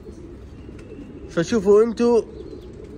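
Pigeons on a rooftop give a close, loud cooing call in a couple of throaty, warbling phrases over a low background murmur, with a voice speaking briefly.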